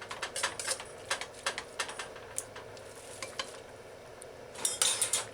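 Sloppy joe meat simmering in a pan over very low heat, a quiet background sizzle dotted with frequent light scrapes and taps of a utensil stirring, busier bursts near the end, no voices.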